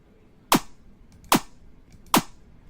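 A game maker's damage hit sound effect plays three times, each a sharp snappy crack like a cap gun, evenly spaced about 0.8 seconds apart and loud against near silence.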